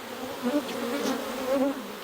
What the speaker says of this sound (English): There's a whole lot of bees just hanging out over there.